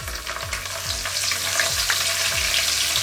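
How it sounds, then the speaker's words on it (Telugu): Mutton keema ingredients fry in a pan with a steady bright sizzle, close and continuous, while a utensil stirs and scrapes at regular intervals beneath the crackle. "ఇవి ఇలాగ 1 నిమిషం పాటు వేగాక దీంట్లో మనం పచ్చిమిరపకాయలు కూడా వేసుకుందాం."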